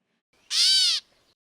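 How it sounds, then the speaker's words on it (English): A single nasal, cat-like mew from a bird, short and clear, rising then falling, heard alone in quiet surroundings. "Their cat call is one of the last bird sounds I hear before it gets dark."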